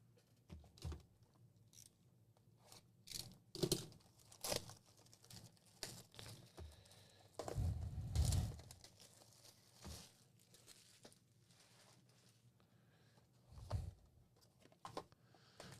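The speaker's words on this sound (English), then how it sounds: "we will shuffle up the cards" Crisp flicks and riffling snaps of trading cards being shuffled, arriving in short irregular bursts with one longer, fuller riffle midway, quiet and close.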